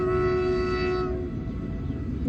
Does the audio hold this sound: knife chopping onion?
no